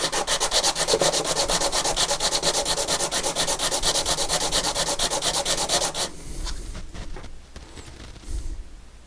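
Metal saxophone parts being sanded by hand: a steady, rapid rhythmic scraping that fills the first six seconds loudly and close up, then gives way to a few softer, scattered scrapes and handling knocks.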